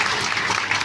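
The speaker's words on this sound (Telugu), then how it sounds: "మన చప్పట్లతో వారందరికీ కూడా" An audience claps for newly sworn-in directors, a dense, loud, continuous burst of applause filling the short span without pause.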